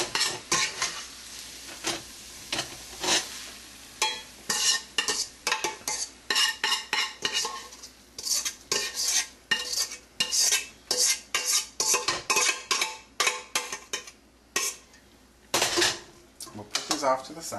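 Cooked onions and garlic scooped from a chili pot into a bowl, with a long run of sharp metal spoon scrapes and clinks against cookware, irregular and close, with faint sizzling underneath and no talking.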